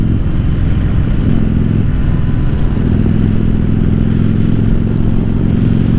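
A Yamaha Virago XV750 bobber cruises at low speed along a scenic coastal back road, its engine a steady, loud, rumbling drone with a constant low hum and no break in the sound.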